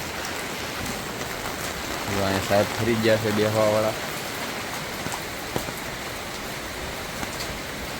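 Heavy monsoon rain in Surat makes a constant, even hiss of drops on surfaces, with someone briefly speaking in the middle over the downpour.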